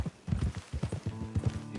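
Horse hooves clip-clop at a steady walking rhythm in Red Dead, close and clear, a run of evenly spaced hoofbeats over a low ambient bed.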